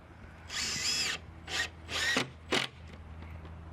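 A power drill drives screws into wood while a speaker box holder is built, giving four close whirring bursts of varying length with short pauses between.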